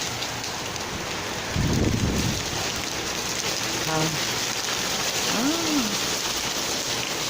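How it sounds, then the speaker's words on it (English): Heavy rain falls as a steady broadband hiss that fills the whole stretch. A person briefly exclaims and a short tonal sound rises and falls over it. "I've woken up by the sound of rain."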